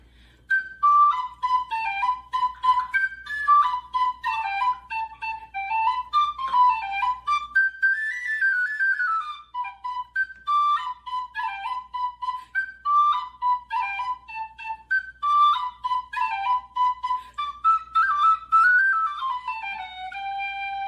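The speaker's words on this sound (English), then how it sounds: "this piece that I shall play is The White Cockade. So I shall start it upon the whistle" Tin whistle playing the traditional tune The White Cockade, a bright, clear solo melody of quick ornamented notes in a steady dance rhythm, close and alone for the whole passage.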